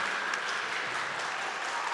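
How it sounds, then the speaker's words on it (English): A summit audience applauds the runner-up team, dense steady clapping from many hands filling the room for a couple of seconds. "Give him a round of applause."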